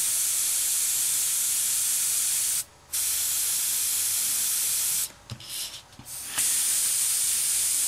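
An airbrush sprays pink ink onto a flower in a steady close hiss, broken by a brief pause and then a few short stuttering bursts before resuming.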